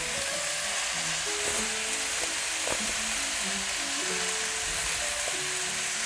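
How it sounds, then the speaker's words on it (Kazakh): Marinated bulgogi meat fries in a pan at home, a steady close sizzle and crackle with occasional stirring clinks and scrapes, no talking. "Мен қазір осының жартысын ғана қуыратын боламын"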